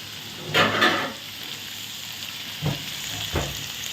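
Onions cooking in a covered pan for a prawn thokku, a soft muffled sizzle with a couple of louder clattering bursts early on and two brief knocks near the end.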